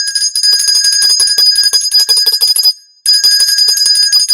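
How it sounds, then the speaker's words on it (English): Seven small lucky bells rung rapidly and continuously, a loud, dense metallic jangle that stops for a moment and then resumes just as bright. "7 lucky bells."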